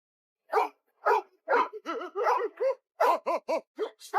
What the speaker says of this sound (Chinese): 突然，他们听到了狗叫声